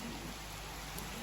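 Steady rain pours down in a flooded town while a concrete truck works in the mud, a dense even hiss of drops holding at constant strength throughout, with no voices.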